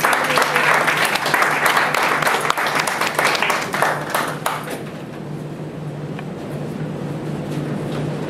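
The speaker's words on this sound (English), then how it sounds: "Give a round of applause for the member." An audience at a community action board meeting applauds a new board member, a dense burst of clapping that fades to scattered claps after about five seconds.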